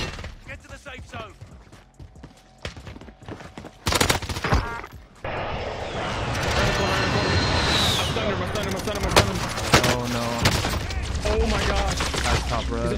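Incoming gunfire strikes a player in the Warzone video game, dense rapid bursts and volleys crackling loudly over a continuous roar of battle, with voices talking underneath.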